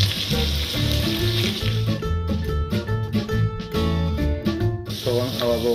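Meat added to a hot pan in Lankaran-style Azerbaijani cooking sizzles loudly and steadily, crackling with bursts of spattering and a few clinks, while background voices are faintly present.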